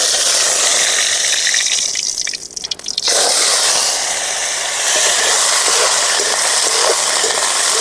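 Water drains off soaked cauliflower florets, a loud, close rushing hiss of pouring and dripping liquid that briefly thins out before resuming steadily.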